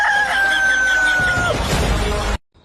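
A rooster crows loudly and alone in one long drawn-out cock-a-doodle-doo, the call sliding down at its end, followed by a burst of rough noise before cutting off abruptly.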